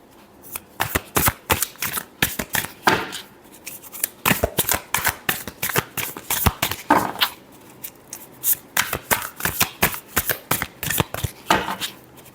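Tarot cards being shuffled by hand: rapid, crisp riffling and slapping bursts in quick irregular runs, close and fairly loud, continuing steadily with short pauses between shuffles.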